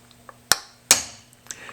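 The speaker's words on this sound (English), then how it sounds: "I'm looking at the reflection each time I hit with the hammer" Two sharp metallic taps of a hammer lightly tapping a copper dish held on a stake, about half a second apart, bright and ringing briefly, with a couple of fainter light clicks around them; no talking.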